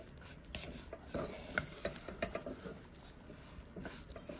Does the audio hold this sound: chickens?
no